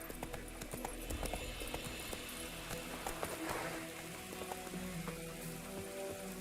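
A horse gallops through the rain in The Witcher 3, hooves thudding in a steady quick rhythm over constant rain and ambient game sound, no talking.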